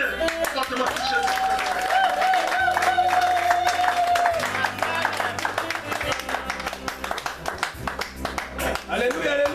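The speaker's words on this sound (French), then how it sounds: "nous allons acclamer fortement pour Jésus" Congregation in church clapping and cheering for Jesus, a dense, loud wash of applause over music with a sustained sung tone, voices mixed in throughout.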